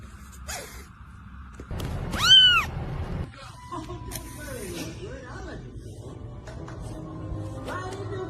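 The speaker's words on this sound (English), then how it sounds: "Look at these spicy feral kitties." Feral kittens meowing and hissing, with several short close high meows and squeaks spread across the clip while people talk over them.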